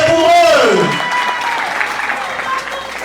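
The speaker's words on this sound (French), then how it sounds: "Applaudissez pour eux." Guests at a 25th wedding anniversary party clap for the couple, the applause rising after a sung or spoken voice fades, then settling into a moderate, steady patter with music tones lingering faintly.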